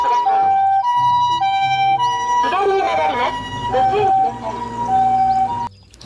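A mud-covered toy ambulance plays its electronic siren, a loud, clear two-tone wail that repeats and steps between pitches before cutting off near the end.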